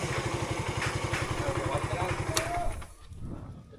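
A motorcycle engine idles close by with a fast, even putter, under people talking, then cuts off near the end, leaving quieter background noise.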